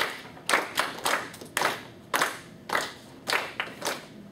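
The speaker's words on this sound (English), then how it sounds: "Clap the beat." A class claps a beat together in a room, with sharp, even claps spaced about a third of a second apart in groups, and no talking.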